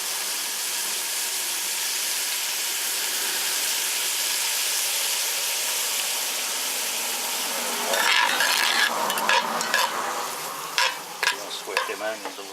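Onions sweat in a pan on a gas stove with a steady, close sizzle, joined in the second half by louder crackling spits and the scrape of stirring.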